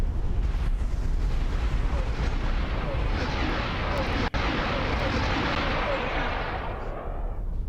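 A big volley of weapon fire and explosions in the space game X4 roars as a continuous, dense, loud barrage that fills the whole stretch before tapering slightly at the end.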